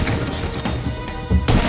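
Sniper rifle shots ring out in GTA V Online, two or three sharp cracks over a busy game soundscape, the loudest bursts landing near the end of a short stretch.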